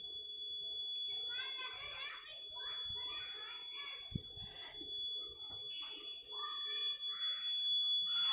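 A high, continuous electronic buzzer tone from an IoT flood monitoring alarm sounds throughout while a person talks over it nearby.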